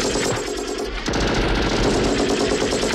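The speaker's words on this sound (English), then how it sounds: "Although there's a lot of shooting going on out there." Machine gun fire from the action film Commando crackles in rapid sustained bursts, loud and dense, with the firing growing heavier partway through.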